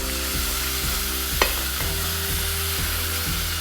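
Masala spices fry in a pan for a shahi mixed dal tadka, with a continuous loud sizzle and a steady hum. A spoon scrapes through them once in a while.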